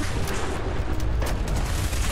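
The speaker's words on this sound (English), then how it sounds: "Explosions! Everything!" Explosions and gunfire fill a Fallout 4 VR game battle, a dense, loud, continuous barrage of booms and shots with no pause.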